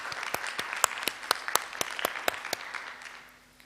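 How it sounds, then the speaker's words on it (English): A conference audience at a plenary session gives a thin round of applause: a few distinct, fairly quiet claps spaced out over a soft background, tapering off toward the end. "Please give her a round of applause."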